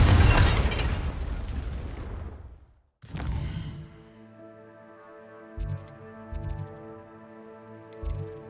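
Confringo spell explosion in the video game Hogwarts Legacy: a loud, roaring blast fades over about two seconds, then a second crack rings out with a long metallic tail. Several short, bright magical bursts follow, and no one speaks.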